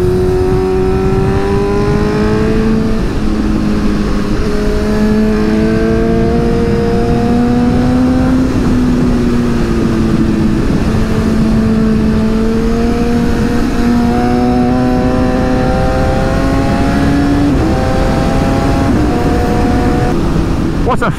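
A Suzuki GSX-S750 motorcycle is ridden on the road, its engine loud and close throughout with rising and falling revs through the gears, a steady droning note that climbs and drops repeatedly.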